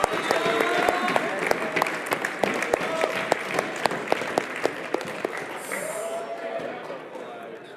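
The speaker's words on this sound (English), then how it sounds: "Give them applause, everybody." Sustained audience applause at a tournament award ceremony for the King of Nordic Challenger Cup, steady dense clapping with a few louder individual claps, a voice speaking over it near the end.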